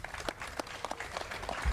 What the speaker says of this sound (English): please give a big round of applause for our Governor, John Carney